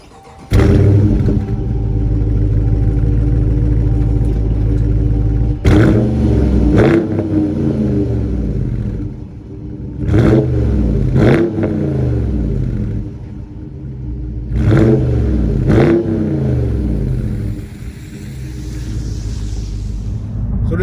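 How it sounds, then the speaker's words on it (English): A 2021 Dodge Challenger R/T with its Hemi V8 cranks to life with a loud roar, then settles into a deep rumbling idle punctuated by four or five sharp throttle blips that rise and fall, close and powerful. "So let's get a start up and hear how this thing sounds."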